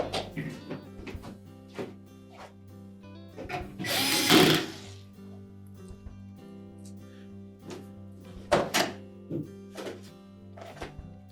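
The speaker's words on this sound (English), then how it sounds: "we'll secure it with the single screw in the center" A power screwdriver drives a single screw into the rear cover of a Whirlpool refrigerator, with short whirring bursts and a louder spin in the middle, close up with small handling clatter.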